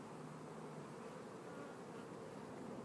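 Honey bees buzzing around a hive frame during queen rearing work, a steady, dense, close hum that continues without a break and has no voices over it.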